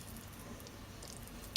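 Homemade marmalade simmers in a pan, giving soft, irregular wet pops and squishy bubbling at a faint, close level with no voices.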